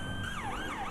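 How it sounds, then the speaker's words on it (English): Police car sirens wailing in the FiveM roleplay video game set in Los Santos, a loud rising and falling electronic wail sweeping up and down over a rumbling engine bed during one continuous burst. "That's where you can hear all the sirens."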